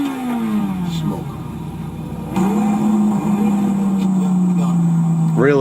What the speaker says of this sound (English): Yeah, it's a Murcielago.